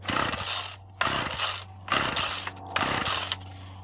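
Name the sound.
Ryobi 740r string trimmer pull-starting after winter storage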